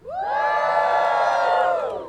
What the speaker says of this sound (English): Give me a cheer if you took a form of public transportation to get here today.